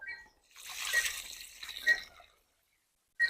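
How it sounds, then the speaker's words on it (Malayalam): Water poured onto the soil of a newly planted jasmine plant, a soft close splashing and trickling for about two seconds, then a short final splash after a pause. "എന്നിട്ട് നമുക്കൊന്ന് നനച്ചു കൊടുക്കാം"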